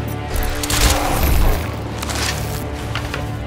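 Gunfire in the first-person shooter Crysis 2, a rapid burst of loud, close shots with crashing impacts, peaking at the start and then trailing into a rough, noisy tail.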